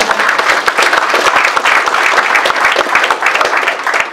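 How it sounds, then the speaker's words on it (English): Dense, loud audience applause at a business talk, continuous clapping from a large crowd with no voices standing out. "So a big round of applause for Liam"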